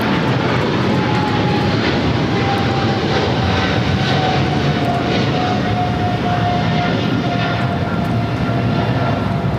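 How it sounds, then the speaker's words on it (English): A British Airways Boeing 777-300ER jet takes off at LAX, a loud, steady engine roar filling the whole stretch with a rising whine running through it. "This is British Airways 282, Speedbird 8 Delta Sierra Heavy taking off to London Heathrow on a 777-300ER."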